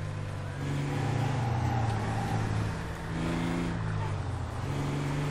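GMC Mega Cab truck in GTA 5 roleplay, engine roaring and revving while it does a tire burnout, a steady loud drone with shifting pitch as someone talks over it.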